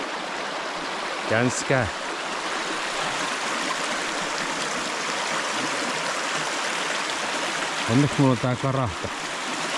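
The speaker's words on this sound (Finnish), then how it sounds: "Se on sitten puron ylitys." Crossing a stream on a solo hike near Halti: steady, close rushing water fills the whole clip, with someone speaking briefly near the start and again near the end.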